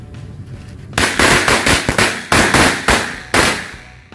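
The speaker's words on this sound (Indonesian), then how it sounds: "selanjutnya ini kita nyalakan mercon korek yang warna biru ya." A rapid string of sharp bangs from blue match-type firecrackers goes off close by, loud irregular pops crackling one after another for several seconds.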